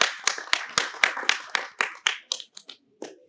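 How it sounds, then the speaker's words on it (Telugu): A burst of audience hand clapping at a film screening, sharp and fairly close, thinning out and slowing to a few last claps before stopping. "గట్టిగా క్లాప్స్ కొట్టాలి"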